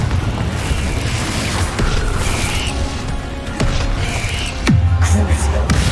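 Explosive spell blasts in the video game Hogwarts Legacy, a deep boom bursting out near the end over a dense, continuous rumble of combat noise.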